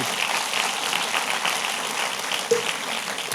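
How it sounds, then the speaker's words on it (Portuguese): Congregation applauding at a church service, a dense continuous patter of many hands clapping at moderate distance. "Dá uma salva de palmas a Jesus."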